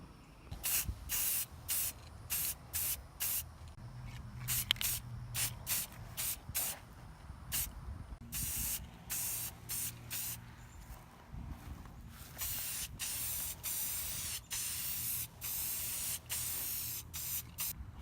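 Rust-Oleum gloss spray paint hisses onto a truck dashboard in many short, sharp bursts with brief gaps between them, close by, turning into longer sustained sprays toward the end.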